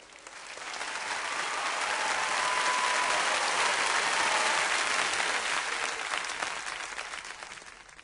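A large audience breaks into enthusiastic applause for the singer, swelling quickly into a dense, sustained roar of clapping that holds for several seconds before gradually thinning out.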